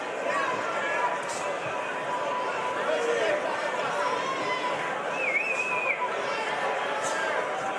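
A loud, continuous crowd murmurs and chatters at a live fight night, Lee Ralph James against Jordan La Ruccia, with a thick background roar and occasional shouts.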